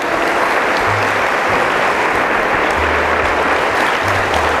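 A church congregation applauds in a dense, sustained wash of clapping, loud and even throughout with no breaks, filling the room; faint murmurs of voices sit underneath.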